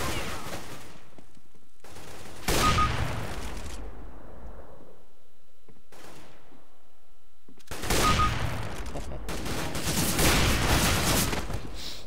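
Gunfire in the video game Counter-Strike: Global Offensive on the Cache map, several loud bursts of shots separated by quiet gaps, each burst followed by a decaying echo.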